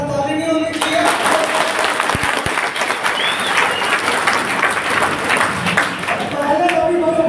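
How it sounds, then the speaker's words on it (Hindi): Loud, sustained applause fills a crowded company motivational meeting hall in Kukshi, Madhya Pradesh, as many hands clap together steadily, with a few voices and cheers mixed in. "जोरदार ताली नहीं होनी चाहिए?"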